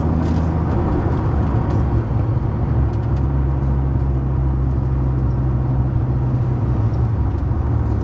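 A 1998 Dodge Viper GTS with low original mileage, heard from inside during a test drive: a steady, low engine drone and road rumble that continues without break.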